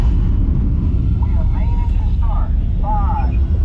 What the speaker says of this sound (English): Here we go. We go for launch.